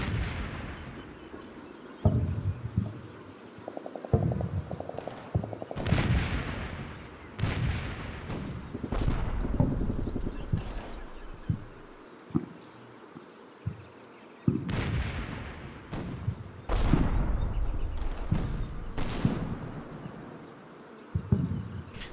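Sustained exchange of machine gun bursts and small arms fire in a Combat Mission WWII battle, sharp cracks and rattling volleys recurring steadily over a constant background, some shots close and loud, others more distant.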